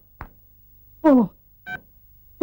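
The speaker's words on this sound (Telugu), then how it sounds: "ఈసారి నెంబర్ కరెక్ట్ కొట్టాలి" Three short electronic tones from a phone keypad, spaced irregularly, each a brief bright beep against near silence.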